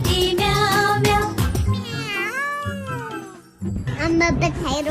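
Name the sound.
cat meowing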